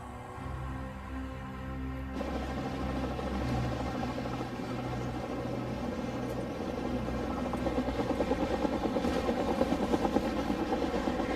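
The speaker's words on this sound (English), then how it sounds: "Juju, prepare the helicopter. We're leaving immediately." A helicopter readied for immediate departure drones steadily and loudly throughout, a continuous whirring roar that starts with a tonal hum and thickens into a dense, sustained rush.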